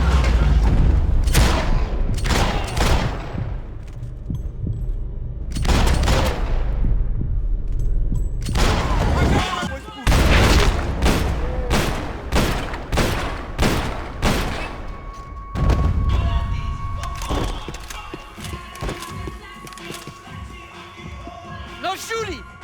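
Gunfire in the video game Max Payne 3: repeated loud shots and bursts in clusters, with heavy booming impacts, running continuously for over twenty seconds and thinning into scattered reports near the end, with voices talking among the shooting.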